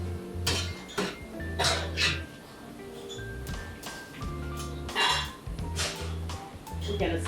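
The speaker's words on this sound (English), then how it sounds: "We're going to stir this in" A spoon scrapes and clinks against a pot while jambalaya ingredients are stirred in at a New Orleans cooking school, with intermittent metallic taps mixed with a voice and room noise.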